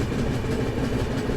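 The 12027 Shatabdi Express from Chennai Central to Bengaluru rolls past with a loud, steady rumble and a faint rhythmic clickety-clack of wheels over rail joints, heard alone for a brief moment.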